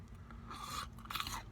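A couple of crisp crunches from biting into KFC Nashville Hot chicken tenders, close and fairly quiet, with faint room hum underneath.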